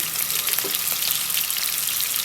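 Onions fry in a pan as a steady, close, bright sizzle with faint crackles and pops throughout, and no talking.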